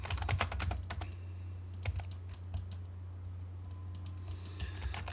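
Computer keyboard keys tapped while entering AutoCAD commands, a quick burst of clicks in the first second, then scattered single keystrokes over a steady low hum, close and fairly faint.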